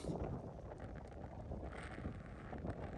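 Strong wind roars steadily across the microphone at a viewpoint in Malico, Pangasinan, a dense, buffeting rumble that continues without a break.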